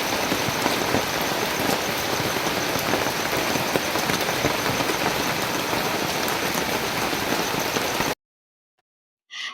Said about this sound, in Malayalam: രണ്ട് ദിവസമായിട്ട് തോരാത്ത മഴയാണ്